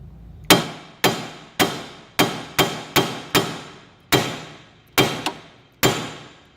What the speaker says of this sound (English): grab a hammer and just